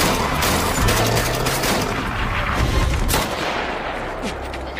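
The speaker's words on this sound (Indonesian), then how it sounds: "Taylor dan Nick terus ditembaki oleh anak buah Jurab di berbagai arah." Rapid gunfire bursts rattle out in an action film battle, dense overlapping shots and loud cracks filling the scene before easing slightly near the end.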